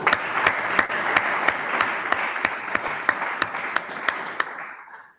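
An audience applauds at the end of a deep learning conference talk, a steady wash of many hands with individual sharper claps standing out, continuing for several seconds before stopping abruptly.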